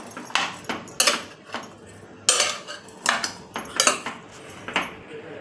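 A metal spoon scraping and clanking against a pot as mixed vegetables for street-style pav bhaji are stirred together, a series of sharp, close clatters spaced irregularly over several seconds with no talking.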